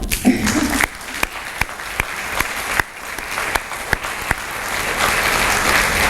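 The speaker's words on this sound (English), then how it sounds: "I'd like you all to applaud for him right now." Applause from the audience at a high school hall of fame induction ceremony, honoring a longtime coach: a sustained crowd clapping with a few sharper individual claps standing out, building slightly toward the end.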